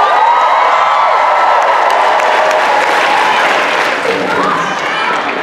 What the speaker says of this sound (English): That amount of cheering is exactly what I felt when I was doing the countdown